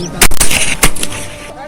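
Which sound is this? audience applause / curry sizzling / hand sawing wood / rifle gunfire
rifle gunfire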